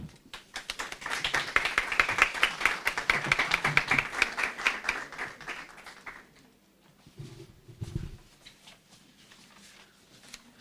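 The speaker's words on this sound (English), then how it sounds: "let's give her another round of applause" A crowd applauds with dense clapping that builds and then fades after several seconds, followed by a few scattered claps and low murmurs.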